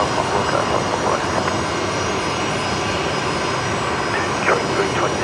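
A passenger airliner in special Elizabeth Fletcher livery rolls along runway 19 right at Brisbane Airport, its steady engine roar broad and continuous at a moderate distance, with faint voices talking over it now and then.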